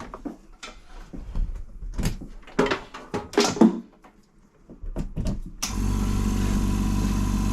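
A nearly silent air compressor used for epoxy resin mould making switches on and settles into a steady, loud, even drone with a low hum, following a stretch of scattered knocks and handling clatter.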